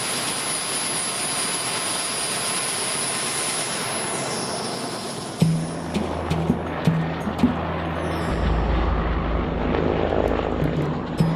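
Jet aircraft flying over the Nubian desert north of Khartoum, a steady broad engine roar heard from inside the cabin, joined midway by a lower droning hum and a few knocks.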